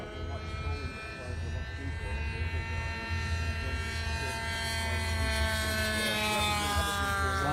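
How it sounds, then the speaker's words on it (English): Two E-flite 1.2 m P-51 Mustang RC model warbirds fly at a warbird show by the bay, giving a steady, continuous motor whine with rising harmonic tones, fairly loud throughout under faint crowd and wind noise. "So we're going to have two P-51s in the air."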